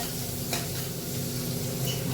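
A spoon stirs wild kantola (spiny gourd) with coriander masala in a hot pan, giving a steady close sizzle and frying crackle with soft scraping strokes throughout.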